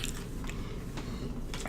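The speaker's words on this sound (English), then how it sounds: "Didn't you chew with your mouth open?" Close, wet chewing with an open mouth, soft squishy mastication and a couple of small crunchy bites over a brief stretch, with no voices.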